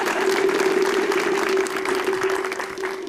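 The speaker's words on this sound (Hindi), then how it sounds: "उस बात पे भी इनके लिए ताली होनी चाहिए।" Studio audience applause on a TV show set, a dense, steady wash of clapping that stays loud for the whole stretch, with a sustained tonal hum running beneath it and no voices.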